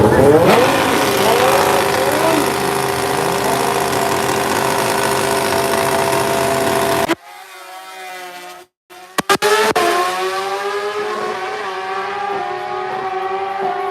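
Drag bikes race down a yellow-belly dragstrip, a loud, sustained high-revving engine howl with rising pitch, cut by a brief dropout before another engine screams back in; an announcer's voice can be heard.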